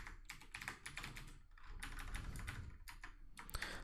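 Rapid keystrokes on a computer keyboard while entering Python code, clicking in quick irregular bursts with brief pauses, close and fairly quiet.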